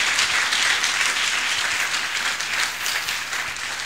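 A church congregation bursts into dense, sustained applause in praise of God, loud and close at first and then easing slightly, a continuous crackle of many hands.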